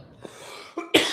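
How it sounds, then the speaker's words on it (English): A single loud, harsh cough bursts out at the end, preceded by faint breathy throat sounds, close to the listener. "Already coughing up lungs."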